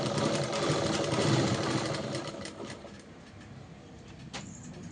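A sewing machine runs steadily, stitching the side seams of a dress made from an old saree. Its motor hums continuously throughout, strongest at the start and softening slightly toward the end.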